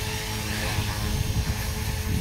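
A small radio-controlled helicopter's rotor whirs and buzzes steadily at close range as it lands with idle-up still on, with a slight rough, uneven edge to the engine noise.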